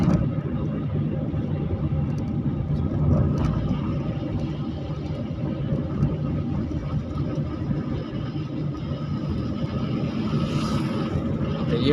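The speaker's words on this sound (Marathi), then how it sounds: "एका हाताने गाडी आपल्याला चालवायची." A car engine drones with steady low rumble and road noise while driving on a highway, continuous and fairly loud throughout.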